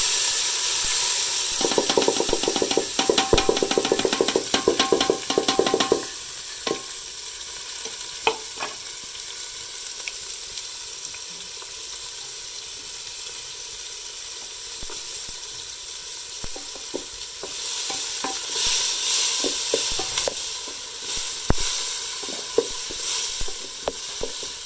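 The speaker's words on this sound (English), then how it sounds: "Then I'll start frying it. So I'm going to put cooking oil. Then I add onions and" Onions and tomatoes fry in cooking oil in a large sufuria, a steady close sizzle with bursts of crackle and stirring scrapes early on, then a softer hiss that swells again near the end.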